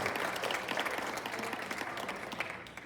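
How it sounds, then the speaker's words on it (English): An audience at a school district planning session applauds steadily and loudly, a dense wash of clapping from a crowd that slowly starts to fade. "One more round of applause for the students and our Teacher of the Month."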